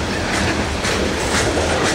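Long Norfolk Southern 192 manifest freight train of 112 cars, hauled by SD80MAC, CW44-9, SD70M-2 and SD60M locomotives, rumbling past a grade crossing near Long Ferry Road up close, with loud, steady rolling roar and wheel clatter filling the whole stretch.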